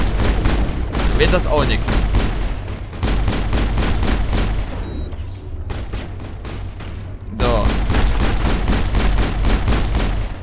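Rapid bursts of gunfire from the Mass Effect video game crackle almost continuously, loud and close, with a brief lull mid-clip before the shooting resumes, while someone talks over the action.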